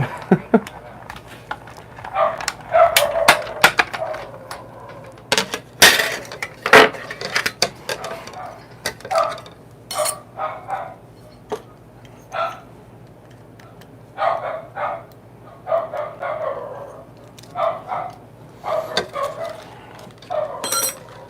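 A dog barks repeatedly in uneven bursts, somewhat distant and muffled as if from another room, with occasional whines between barks.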